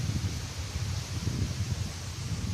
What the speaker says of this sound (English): with all the wind blowing